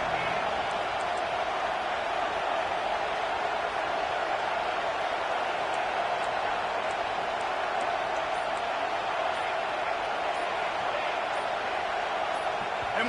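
A dense, continuous roar from a packed crowd at a college football game involving Northwestern fills the clip at a steady level, with no single voice standing out.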